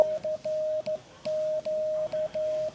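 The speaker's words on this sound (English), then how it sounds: "let me send the letter CQ" Morse code CQ keyed by hand on a straight key through an oscillator, a clean single-pitch tone in a string of short dits and longer dahs with distinct gaps, clear and close.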